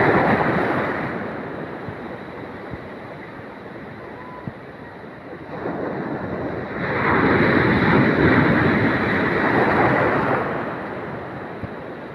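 Ocean surf rushes and swells in broad washes of noise around a small boat being rescued near shore, building louder midway then easing, with wind buffeting the microphone throughout.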